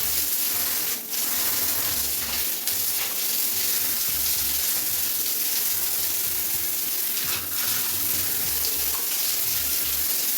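A tap runs steadily during washing, a continuous close hiss of water splashing with small dips in flow, with no talking.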